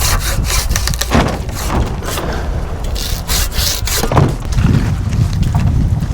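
A hand saw cutting through garden tree branches in a spring yard cleanup on Jeju, with steady close rasping strokes in an uneven rhythm and wind buffeting the microphone.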